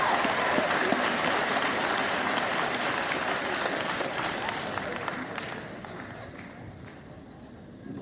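A round of applause fills a hall at a high school awards ceremony, a dense, steady clapping from the crowd that gradually thins and fades over the final seconds.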